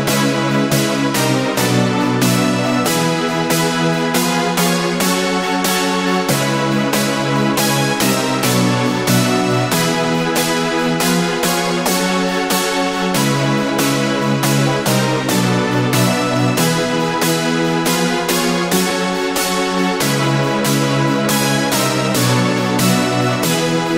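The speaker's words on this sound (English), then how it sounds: "So these are the super chords, super saw chords." Bright synth supersaw chords play continuously in a steady, dense rhythmic pattern, loud and full throughout with a low bass underneath and no voices.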